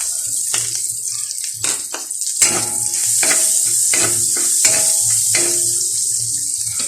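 Garlic fries in a pan with a steady, bright sizzle while a utensil scrapes and taps against the pan in repeated stirring strokes, close and fairly loud.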